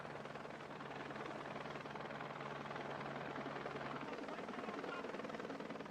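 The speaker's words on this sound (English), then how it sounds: "There was a very faint whirring of a helicopter that we could hear." Steady whirring of a helicopter, a constant rotor drone holding at an even level throughout.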